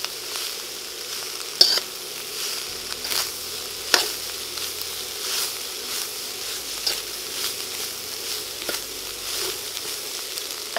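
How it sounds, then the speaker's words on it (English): Cabbage sizzles and fries in a hot wok, with a steady crackling hiss and occasional scraping stirs and taps from a utensil against the pan. "Saute it a bit to reduce the size of the cabbage and let it sweat a little bit"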